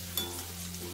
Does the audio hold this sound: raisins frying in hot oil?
yes